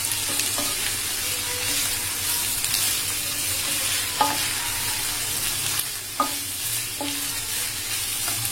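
Boiled buri fish frying with onions in hot oil, a steady close sizzle with occasional stirring clinks and scrapes of the spatula, no voices.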